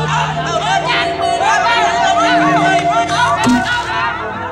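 A crowd bidding at an auction in a Hindi action thriller film: many voices calling out and chattering over one another under a steady hum, dense and fairly loud throughout.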